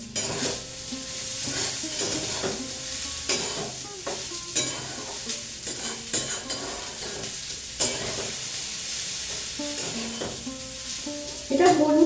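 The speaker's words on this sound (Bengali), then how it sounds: "সেই সবজি ভাজিটা আমি এতে মেশাবো। আমি একটু কড়াইশুঁটি বললাম ছাড়িয়ে রেখেছি, কড়াইশুঁটি একটু মিশিয়ে দিলাম।" Fried vegetables and green peas stirred into dalia upma in a pan, a steady sizzle with repeated scraping and stirring strokes and occasional utensil knocks against the pan.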